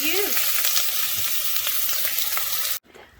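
Bacon sizzles and fries steadily in a pan on medium-low heat as its fat renders, a dense, continuous crackle close to the mic that cuts off abruptly near the end.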